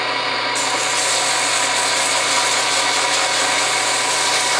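A wooden pen blank is sanded with 150 grit sandpaper, likely while spinning on a lathe, giving a steady, close, loud rasping hiss that runs continuously without pause.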